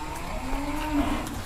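A Madura sacrificial cow moos in a long, low, steady call, heard close over constant outdoor background noise at a cattle contest.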